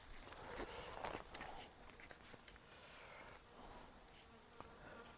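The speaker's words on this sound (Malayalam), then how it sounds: "ഈച്ചയുടെ ശല്യം." Flies buzzing around a solo campsite in an Australian forest, faint and intermittent close to the ear, with light rustling and handling noises but no talk.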